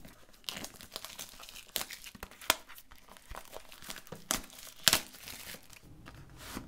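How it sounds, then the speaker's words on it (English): Earbud packaging crinkles and crackles close up, with irregular bursts of plastic and paper rustling, a few sharper tearing snaps and quieter handling between them. "Buckle up. Unboxing time."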